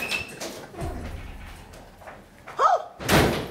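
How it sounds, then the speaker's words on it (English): A door slams shut in an indoor home setting, a sharp loud bang near the end following a brief squeak of movement, with room noise and scattered bumps beforehand. "Please, I just asked to lock the door."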